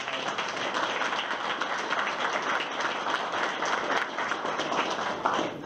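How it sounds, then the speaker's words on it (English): A room of guests at a police deputy chief's retirement celebration gives a warm round of applause for the family, a continuous, fairly loud crowd clapping that holds steady throughout. "If I can give them a nice round of applause."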